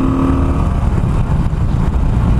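A stock Harley-Davidson Iron 883 with an air box mod and an ECM flash tune runs at its rev limiter. The engine roars loud and close, held at a steady high buzz for about two and a half seconds.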